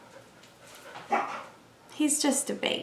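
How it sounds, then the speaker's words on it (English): A frightened dog, scared of thunder, lets out soft whimpers and then a few quick yips and barks close by, while someone speaks soothingly over it. "about my dog making noises in the background."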